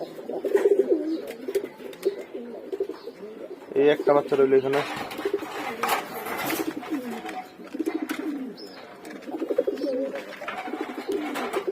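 Pigeons in a loft give repeated soft, throaty coos and burbling calls close by, overlapping one another, while a person talks briefly in between.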